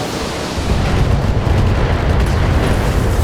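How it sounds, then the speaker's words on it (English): Heavy weapon fire and explosions as a mech is destroyed in the BattleTech game, a loud, sustained rumbling roar with deep booming low end filling the whole moment. "There he goes. Enemy mech destroyed."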